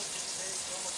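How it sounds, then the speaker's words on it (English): Water running steadily into a pan in a home kitchen while hamburger helper is being made, a continuous close splashing gush lasting about a second. "I put some water in it, maybe 3/4 of a cup of water."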